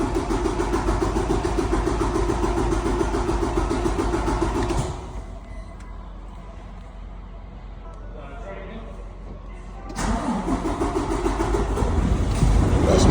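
A pickup truck's engine runs after an oil change, a loud steady rumble that drops away for several seconds and then returns at full strength, with someone talking over it.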